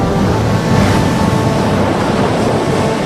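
Rough ocean waves and rolling sea swells make a loud, continuous roar and wash, steady and unbroken, with wind-like rumble and no voices.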